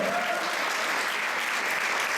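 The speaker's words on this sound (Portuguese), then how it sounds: "aplauda ao Senhor, que foi power" Church congregation bursts into loud, dense applause, an unbroken wash of many hands clapping throughout.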